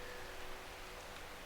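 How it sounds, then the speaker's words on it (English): Steady rain ambience from the video game Strange Horticulture: a soft, even hiss of falling rain that stays constant throughout with no distinct drops standing out. "I love the sound of this rain. It's amazing."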